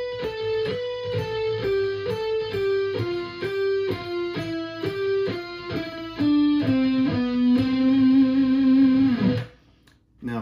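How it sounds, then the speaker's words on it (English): An electric guitar with distortion plays a slow triplet lick that stair-steps down the scale, one clear note after another, and ends on a sustained low note that cuts off abruptly. "it's a triplet pattern that stair steps its way down the scale"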